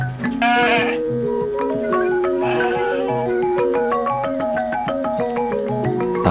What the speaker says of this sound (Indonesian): domba Garut ini.